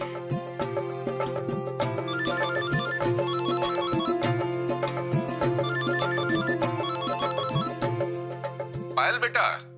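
A telephone rings with a repeating electronic tone pattern over background music, pulsing steadily for several seconds before cutting off.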